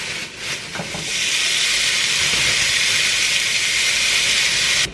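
Meat sizzles in a hot pan on a stove, a loud steady frying hiss after a brief clatter at the start, cutting off abruptly at the end.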